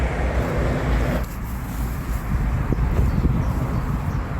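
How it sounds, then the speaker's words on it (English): Steady road traffic noise, a continuous low rumble and hiss from passing vehicles, fairly loud and unbroken. "I do apologise for the road noise"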